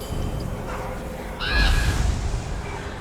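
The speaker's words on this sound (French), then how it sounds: "Là, il y a un corbeau." A crow caws once in a Halloween video game, a short, clear call over steady background game ambience, with a voice speaking faintly.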